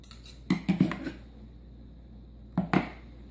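A spoon clinks against a dish while dill topping is scooped onto salmon pieces, giving a cluster of close metallic taps, then a quiet pause and two more taps.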